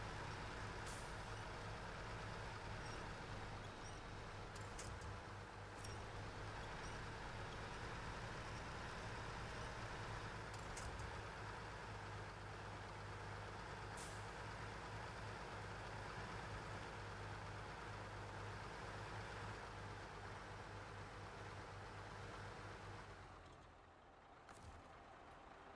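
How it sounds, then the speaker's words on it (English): A heavy truck hauling big trailers in the off-road driving game Snowrunner, its engine droning steadily and loudly with brief air-brake hisses over the top, until the rumble suddenly drops away near the end. "the truck got further up the hill than I anticipated it would."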